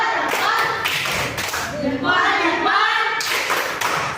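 A class claps together for a student group in a dense, continuous burst of applause, fairly close, with voices mixed in.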